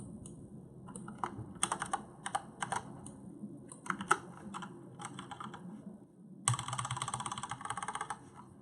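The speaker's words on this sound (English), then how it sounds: "And my keyboard is so loud." Rapid keyboard typing in bursts of clicks with short pauses, close and fairly crisp, ending in a dense flurry of keystrokes.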